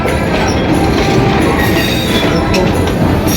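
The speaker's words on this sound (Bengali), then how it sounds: "দুপাশে মাছের বাজার আর মাঝখান দিয়ে ট্রেন যাচ্ছে" A train rolls between the stalls of a wholesale fish market at Barobazar, Kaliganj, Jhenaidah, giving a loud, steady, close rumble and rattle of rail cars with clacking wheels that lasts throughout.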